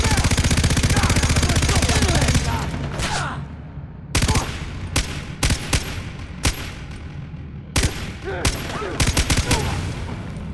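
A PKM machine gun in the video game Far Cry 3 fires a long, loud continuous burst, then several shorter bursts and single shots. Someone talks over part of it.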